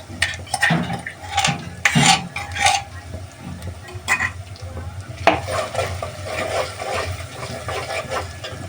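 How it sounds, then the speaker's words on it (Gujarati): Ginger, garlic and green chilli paste cooking in a pan for a prawn curry, with spoon stirring scrapes and clinks over a steady low sizzle, close and fairly loud, no talk. "તો આપણે અંદર નાખીશું આદુ લસણ ને લીલા મરચાંનો પેસ્ટ."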